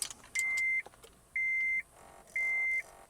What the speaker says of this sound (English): turn on ignition with original key